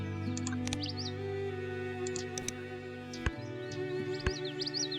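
Short chirping bird calls in the Wingspan board video game, bright repeated tweets over a steady low hum and occasional soft ticks, quiet and without speech.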